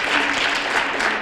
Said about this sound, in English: Let's give her a round of applause for all that